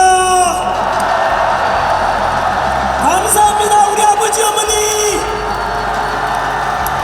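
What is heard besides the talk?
crowd cheering loudly and applauding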